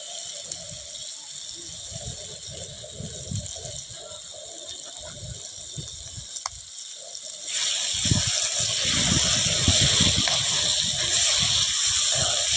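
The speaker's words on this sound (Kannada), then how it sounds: "ಇವಾಗ ನಾನು ಇದಕ್ಕೆ ನೀರನ್ನ ಆ್ಯಡ್ ಮಾಡ್ತಾಯಿದ್ದೀನಿ" Water poured into a pot of simmering gravy at an outdoor cooking spot in nature, a steady rushing gush that grows louder partway through over continuous background noise.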